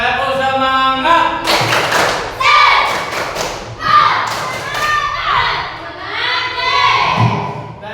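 Indonesian children in a classroom perform a rhythmic clapping chant, with sharp claps in patterned bursts over their sung and shouted voices, close and lively.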